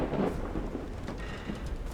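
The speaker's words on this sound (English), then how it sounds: "I love thunder." Thunder and rain in the video game Call of the Sea: a dense wash of falling rain with a low rolling thunder rumble swelling at the start, steady and moderately loud, with no one talking.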